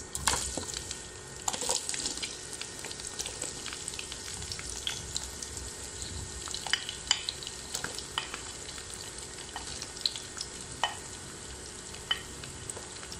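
Chopped onions fry in a cup of hot oil for a smashed beef kabab, a continuous crackling sizzle with scattered sharp pops and occasional stirring scrapes, close and steady throughout.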